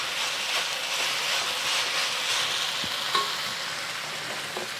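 Chives being stir-fried in a hot pan for a Chinese New Year dish, a steady, dense sizzle that holds at an even level throughout, with a faint clink near the middle.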